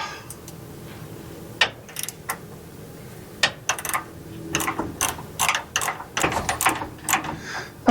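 A fine-thread bolt on a P32 Workhorse motorhome steering stabilizer is tightened with a ratchet, giving close, sharp, irregular clicking bursts that speed up toward the end.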